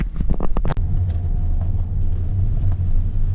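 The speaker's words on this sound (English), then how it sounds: "Now as I'm driving forward here and going around the van" A car rolls forward around a parked van at low speed, a steady low engine rumble with wind buffeting on the microphone, preceded by a few sharp knocks and bumps near the start.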